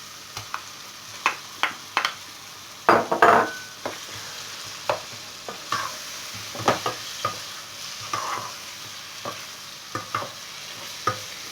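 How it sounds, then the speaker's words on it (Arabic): Chicken pieces tossed onto softened vegetables in a pan, frying with a steady sizzle while a spatula scrapes and knocks against the pan in irregular close strokes, with no talking. "ودابا من بعد ما طابت لنا هاد الخضر ترميو عليها هاد قطع الدجاج"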